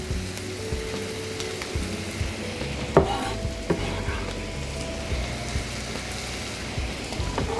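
Chopped onion and garlic fry in hot oil while being stirred, a dense rain-like sizzle running throughout with occasional sharp spoon knocks against the pan, near and steady.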